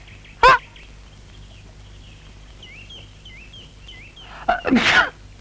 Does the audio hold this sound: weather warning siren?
no